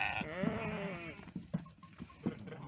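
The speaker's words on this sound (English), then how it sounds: "These sheep came from the Aegean coast of Turkey" Chios sheep and lambs bleating on a farm, one long wavering bleat at the start followed by several short calls and soft thuds, close by.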